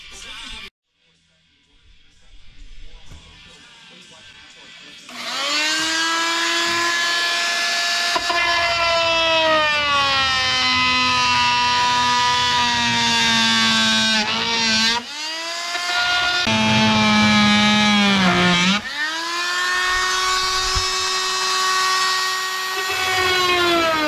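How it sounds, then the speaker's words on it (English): A power saw cutting plywood on a model railroad layout table whines loudly and steadily for a long stretch, its pitch dipping briefly under load a few times after a short quiet start. "continue with the saw, cutting out a little bit more plywood"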